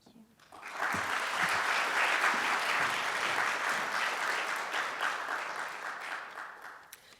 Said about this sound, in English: You all tried that clapping thing